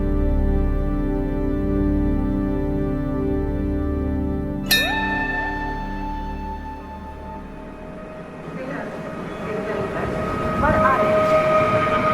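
A train at Ghaziabad railway station in India gives a loud, steady low rumble with sustained tonal hum. A sharp onset about a third of the way in leads into noisier, rougher platform clatter.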